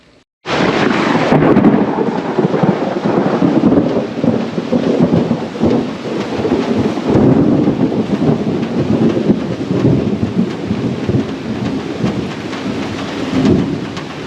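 A thunderstorm bursts in after a moment of quiet: heavy rain hisses on surfaces nearby while deep rolling thunder rumbles through, staying loud and continuous to the end with no talking.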